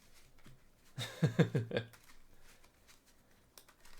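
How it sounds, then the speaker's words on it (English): A short burst of Cardfight Vanguard deck shuffling, a quick riffle of a few rapid flutters, close and fairly quiet against a still background. "Alright, a little bit of shuffling."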